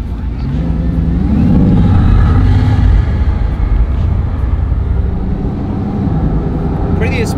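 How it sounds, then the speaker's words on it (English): A Bugatti Chiron sports car accelerating in automatic mode, its engine droning loudly with a few gear changes as the pitch steps up and drops, heard from the cabin with no talk. "let's just be fair and put it in auto and see how it shifts"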